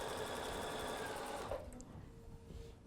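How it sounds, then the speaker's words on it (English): A sewing machine runs a straight stitch with a fast, steady mechanical whir for about a second and a half, then stops, leaving quieter handling noises. "let me actually stitch out just a straight stitch"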